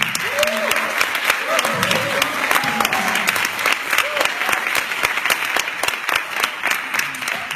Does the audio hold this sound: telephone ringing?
no